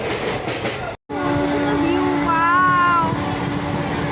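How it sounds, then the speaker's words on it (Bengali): A train rushes past at speed nearby, loud and steady with rolling rail rumble, and a sustained horn blast rings out over it partway through. "স্পিডেই যাচ্ছে ট্রেনটা"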